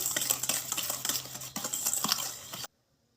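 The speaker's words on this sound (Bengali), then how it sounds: "এবার চিনিটা আর ডিমটা ভালোভাবে মিশিয়ে নেব" Ground sugar and egg beaten together in a bowl for cake batter, with quick, rhythmic scraping and clinking of a utensil against the bowl, close and steady, stopping abruptly into silence.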